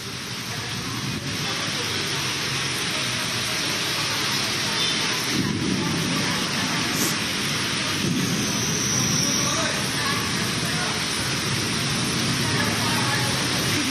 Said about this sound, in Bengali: এই যে ঝড় বৃষ্টি, যেভাবে ঝোড়ো হাওয়া সঙ্গে ঘন ঘন বজ্রপাত,